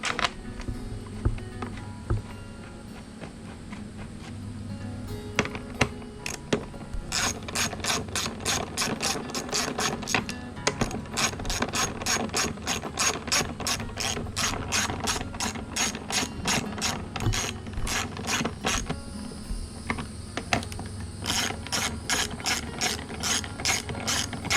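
A ratchet tightens number 10 head bolts on a 2017 Suzuki 300 HP outboard, giving long runs of rapid, crisp, close-up clicks with brief pauses between bursts.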